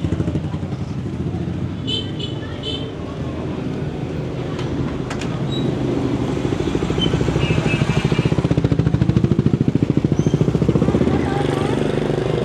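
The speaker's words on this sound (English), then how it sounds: "Surrounded by motorbikes." Motorbike engines hum and putter along a busy street in Hoi An, Vietnam, a continuous droning traffic bed that builds toward the middle, with faint voices and a few light chimes.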